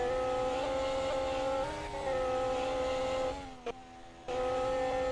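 A McLaren F1 car from a racing video game drives through a corner with a steady, high-pitched engine whine, briefly dropping and shifting pitch before climbing again, loud and close with no talk.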